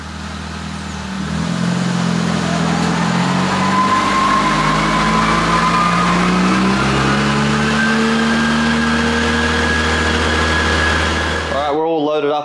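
A turbocharged SOHC 4G93 engine on stock internals runs up on a dyno at 17 psi, a steady loud drone climbing smoothly in pitch as revs build, then cutting off sharply at the end.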